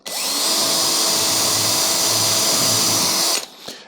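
A power drill in impact mode whirs steadily at high speed for over three seconds, loud and close, then cuts off and spins down.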